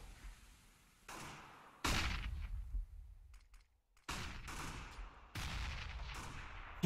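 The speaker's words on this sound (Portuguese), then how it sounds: "Trocação de tiro." Sharp gunfire exchanges from a Counter-Strike match at a Copenhagen Games 2014 semi-final, with several bursts of shots separated by short gaps, fairly close and crisp.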